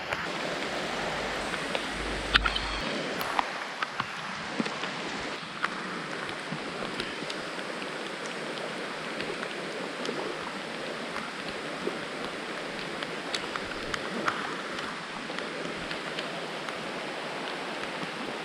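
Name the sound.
rain falling outdoors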